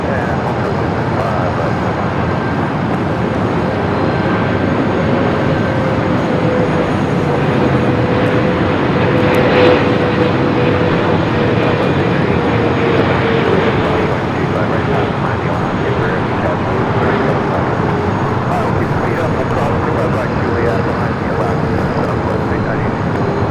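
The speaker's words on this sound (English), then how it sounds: "Philippine, the 777 at 300 ER. Flight 102 coming up from Manila." Loud, steady jet engine roar from a Philippine Airlines Boeing 777-300ER arriving at Los Angeles International Airport, a sustained rumbling hiss with a slowly shifting tone.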